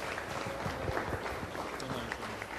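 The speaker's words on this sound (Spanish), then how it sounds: "Jesús Chávez, un aplauso." A studio audience claps for a guest arriving on a Mexican comedy talk show, a moderate, fairly even spread of clapping with some voices mixed in.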